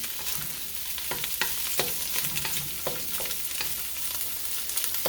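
Turmeric fried rice with ham is tossed in a hot pan. A soft sizzle runs under repeated sharp scraping strokes of the utensil, close and without talk.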